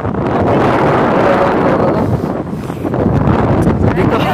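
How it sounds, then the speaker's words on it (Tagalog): Strong wind roars across the microphone in a dense, steady rumble, with faint rustling and no clear speech. "Malakas yung hangin."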